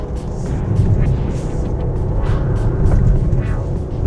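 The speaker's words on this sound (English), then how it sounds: "And you can hear that exhaust note getting more aggressive now." A 2019 Mercedes-AMG GLC63 exhaust note, a steady, loud low rumble held through a turn with the engine under load, continuous and without speech.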